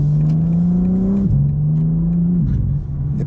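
Loud, steady engine drone inside a 2023 BMW M4 CSL on a highway, its pitch dipping twice as gears shift, over constant road rumble.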